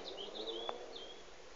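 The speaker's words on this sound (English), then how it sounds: "It's beautiful, you can hear the birds." Birds chirp faintly along an old Great Northern Railway path in Lincolnshire: a few thin, high, sweeping calls off in the distance over a steady outdoor hiss, with one brief knock partway through.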